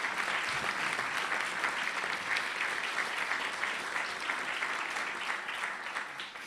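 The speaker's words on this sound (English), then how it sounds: "Now, round of applause." Steady, fairly loud applause from a luncheon audience at a press club event, continuous clapping that holds evenly and tapers slightly at the end.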